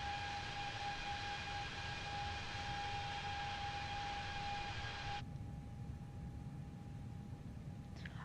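A steady, droning jet engine hum with a high whine is heard from an A321neo climbing after takeoff in MSFS 2020. The tone is continuous and even, the upper hiss cutting out midway, with no talking.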